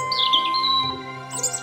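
A small bird chirps and tweets in quick bright bursts, loud and close at first, fading slightly mid-clip, then returning with a fresh flurry of calls at the end, with no voices.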